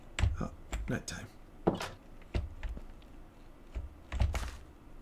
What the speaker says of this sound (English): Typing. Takes so long to type.